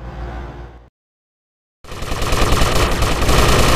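Automatic gunfire in the PSP game GTA Vice City Stories, loud continuous bursts that cut off abruptly into a short silence, then resume and build to a heavy sustained barrage.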